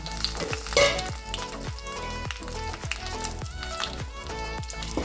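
Grated coconut sautéing in a pan, browning with a steady close sizzle and frying crackle, broken by regular stirring scrapes about every half second, no voices.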